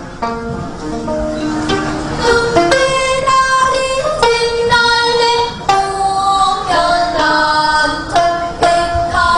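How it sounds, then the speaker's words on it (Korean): Plucked strings of a gayageum played by Korean children at a middle school in Changsha, China, ringing out in a flowing melody, bright resonant notes with sliding pitches, played close and fairly loud. "우리 아이들의 고운 가야금 소리가 울려 퍼집니다."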